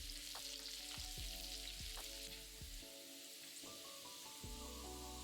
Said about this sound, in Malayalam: 5 വെളുത്തുള്ളി അല്ലി നീളത്തിൽ അരിഞ്ഞതിട്ട് ഏതാനും സെക്കൻഡ് മൂപ്പിക്കുക.